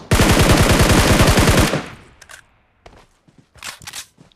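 Rapid burst of gunfire from a tap-fire gun in the battle royale game BGMI, a dense loud volley lasting over a second, then scattered faint footsteps and a few short bursts further off.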